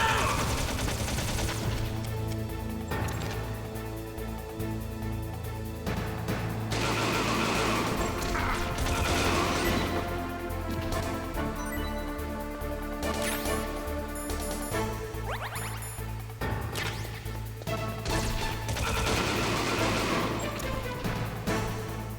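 Bursts of gunfire in the Metal Gear Solid video game, repeated sharp volleys and rapid shots over a continuous game soundtrack and engine-like drone, loud and close throughout.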